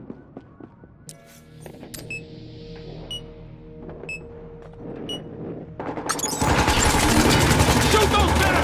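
Battlefield Hardline gunfire comes in as sparse shots and beeps, then swells into a loud, continuous automatic barrage near the end.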